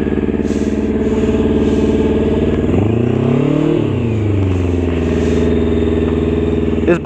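A Honda F4i sport motorcycle engine idles close by with a steady throbbing rumble, then revs up and back down once in the middle before settling to idle again.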